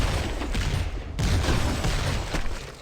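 Video game gunfire crackles in a dense, continuous volley, close and loud, with a brief dip before resuming heavy shooting amid game noise.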